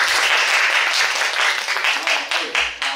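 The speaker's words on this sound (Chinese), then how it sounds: "我们希望最热烈的掌声欢迎一下丸山教授" An audience bursts into warm applause to welcome Professor Maruyama at a Daoist studies lecture, a dense steady clapping that lasts throughout and thins slightly toward the end.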